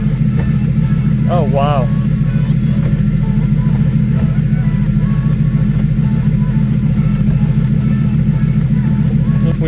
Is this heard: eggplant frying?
no